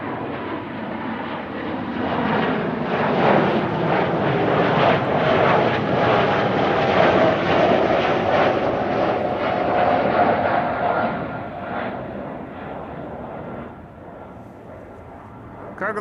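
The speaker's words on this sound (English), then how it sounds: "Cargolux 747 immediately after the Emirates A380" A Cargolux Boeing 747 and an Emirates A380 roll past at Amsterdam Schiphol, a loud broad jet roar building to a sustained peak then slowly fading as the aircraft move away.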